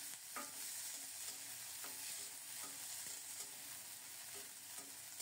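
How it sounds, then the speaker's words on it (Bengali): Garlic, green chilies and papaya seeds sizzle in hot oil, giving a continuous bright crackle with regular scraping stirs of a spatula against the pan and no voices. "নেড়ে চেড়ে অল্প কিছুক্ষণ ঢাকা দিয়ে পেঁপের বীজগুলো ভেজে নেব"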